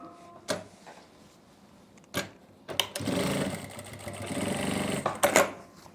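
A sewing machine stitches palazzo pant fabric in short bursts, a few quick clicks first, then a sustained whirring run of stitching ending in rapid stops, close and clear.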